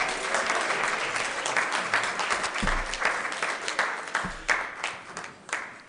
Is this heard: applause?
yes